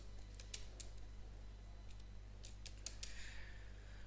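Soft keyboard typing on a computer keyboard while entering a word into an MS Word document: a few scattered quiet clicks in short bursts over a steady low hum.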